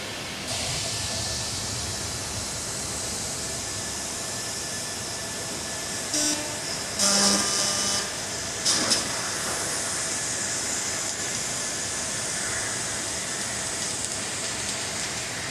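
High power fiber laser cutting machine SF3015H running in a workshop: a steady, loud broadband hiss and hum throughout, with brief brighter bursts and tonal whines partway through, no voices.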